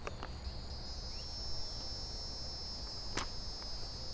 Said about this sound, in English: F***ing cicadas.